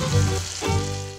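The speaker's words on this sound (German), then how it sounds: "Dazu geben wir dann die Butter in eine Pfanne und geben auch gleich den Zucker hinzu." Butter and sugar heat together in a frying pan, giving a steady close sizzle and bubbling hiss throughout, with a faint low hum underneath.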